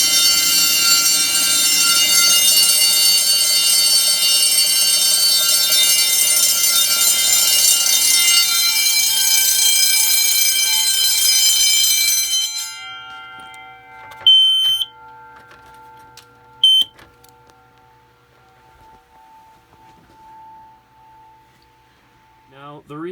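Loud 10 inch fire alarm bells ring continuously during a fire alarm system test, then cut off halfway through, leaving a quieter electronic hum with a couple of short beeps.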